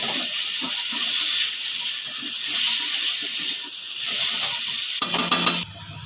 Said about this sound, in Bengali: এবার টমেটো কুচানোটা দেবো। টমেটোর মধ্যে অল্প লবণ দেবো, যাতে টমেটোটা তাড়াতাড়ি গলে যায়